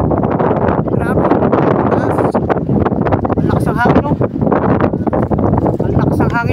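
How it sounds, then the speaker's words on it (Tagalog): Strong wind buffets the microphone up on a high place in Calauag, Quezon, a loud continuous gusting roar with a voice talking faintly underneath. "Ang laks ang hangin mga pala friends."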